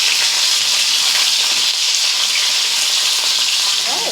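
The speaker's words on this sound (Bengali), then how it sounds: "তেলের মধ্যে পটলগুলোকে ভেজে নেব।" About 500 grams of pointed gourd (potol) fry in hot oil, producing a loud, close, unbroken sizzle and bubbling that holds steady throughout with no voices.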